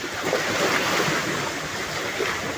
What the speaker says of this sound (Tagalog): Pinapakita lang natin ngayon dito yung lagay ng ating karagatan dito sa Mabini